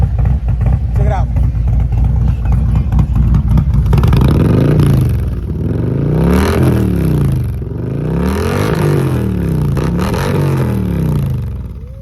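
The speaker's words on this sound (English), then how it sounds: "So right now we're gonna rev it up and stuff, and G, give it a rev real quick" A 2019 motorcycle fitted with a new Khrome Werks full exhaust system, revved at Daytona Biketoberfest 2021, giving loud repeated rising and falling blips over an idle, with people talking over the start.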